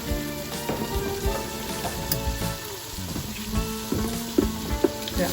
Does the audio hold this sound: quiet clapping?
no